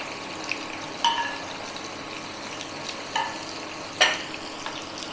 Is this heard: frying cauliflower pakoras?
yes